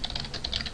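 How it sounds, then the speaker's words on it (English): Quick keystrokes tap out code on a computer keyboard, a short close-up run of about a dozen crisp clicks with no talking. "So I'm going to go ahead and type import"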